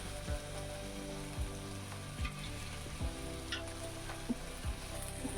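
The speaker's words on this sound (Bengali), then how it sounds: "নাড়াচাড়া দিয়ে মিলিয়ে নিব" Chow mein noodles fry in a hot pan with a steady, dense sizzle, while a utensil stirs and tosses them with regular soft scraping strokes about once a second, with no voices.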